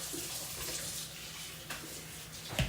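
Steady running tap water while washing up in a home kitchen before making nut milk, a soft, even hiss with a few faint knocks and no talking.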